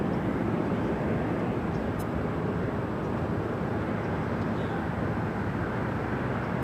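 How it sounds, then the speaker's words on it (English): An American Airlines Boeing 777 in Oneworld livery touches down at Los Angeles LAX, a steady, broad, loud roar of jet engines and rushing air that holds level throughout with no letup. "We just had that American at 777 in the One World livery touching down."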